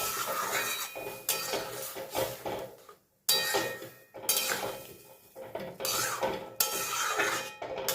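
Dal with winter vegetables being stirred in a metal cooking pot: a spoon scrapes and clanks in repeated rhythmic strokes with brief pauses, close and clear, with nobody talking.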